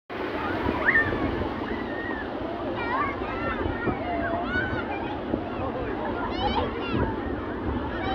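Big waves rolling onto a crowded beach at Ganpatipule, a steady wash of surf with wind rumble, while people talk and children shout over it.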